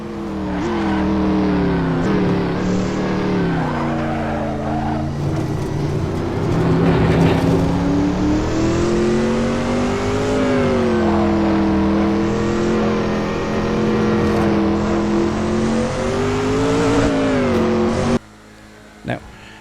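A Declasse Tampa GT in GTA Online accelerates hard with a loud, sustained engine drone whose pitch rises and dips through gear changes, steady for most of the stretch before cutting off abruptly near the end.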